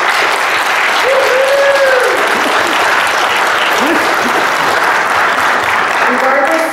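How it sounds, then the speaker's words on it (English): An audience breaks into steady, full applause, thick continuous clapping with faint cheers and whistles rising briefly above it. "So I'd like to give them a round of applause."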